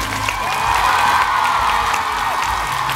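A concert crowd at a show in Taiwan applauds and cheers for the dancers, a dense wash of clapping and high whoops held at a moderate distance.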